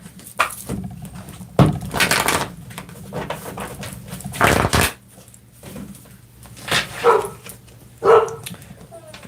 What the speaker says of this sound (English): I was just waiting for my dogs to stop barking a bit